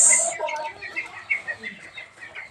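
Several chickens cluck in short, irregular calls close by while being fed paddy grain on a homestead farm, with a brief higher squawk at the start and some faint background voices.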